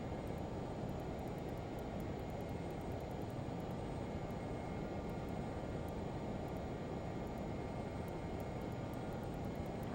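Steady, loud broadband roar of a Learjet's engines in Microsoft Flight Simulator, a continuous drone holding at even volume throughout with faint high tonal whine above it and no talking.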